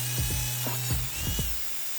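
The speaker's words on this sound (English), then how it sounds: "I'm just using the wire wheel to strip all the seam sealer off" A wire wheel on a power tool strips seam sealer off the bare steel body of a BMW E30 car, giving a steady mechanical whir broken by several short scraping bursts, close and fairly loud with no talk.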